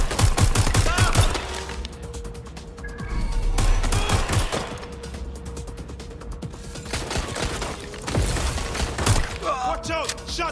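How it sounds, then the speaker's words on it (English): Gunfire in the video game Watch Dogs: Legion comes in loud, close volleys of rapid shots, with bursts around the start, middle and end and quieter stretches of background between them. "Shots fired!"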